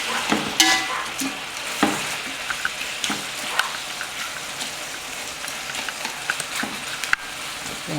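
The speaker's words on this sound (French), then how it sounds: "on mélange tout comme ça" Seafood fricassee with langoustines sizzles steadily in a pan while being stirred, with a constant close frying crackle and occasional scrapes and clinks from the spoon.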